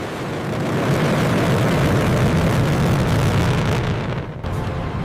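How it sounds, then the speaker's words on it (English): Interceptor jet aircraft roaring overhead in a loud, steady broadband rumble that holds for several seconds, dipping briefly near the end before swelling again. "Interceptors were sent into the air to hunt him down."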